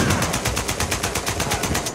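Rapid AK rifle fire in Uncharted 4: A Thief's End, a loud, sustained burst of evenly spaced automatic shots with no voices over it.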